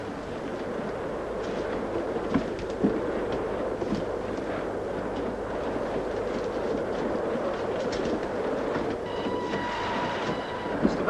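Inside a rolling train in a 1941 film, a steady rumble and rattle of the moving carriage runs continuously at an even level, with faint clicks of the wheels and a brief squeal near the end.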